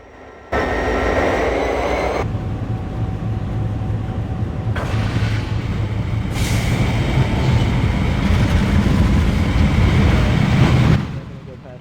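A video game train in Trainz 2012 rumbles past a level crossing at close range with a loud, steady roar and rattling wheels, fading abruptly at the end.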